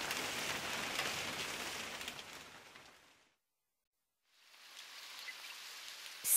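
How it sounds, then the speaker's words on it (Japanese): A sudden rain shower hisses steadily and closely, fading out into brief silence midway before the downpour swells back in; no voices are heard. "にわか雨だわ。"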